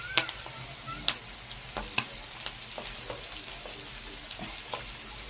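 Sausage and bumbar sizzle and crackle in a hot frying pan, a steady close frying hiss broken by sharp pops and spatters, with no talking.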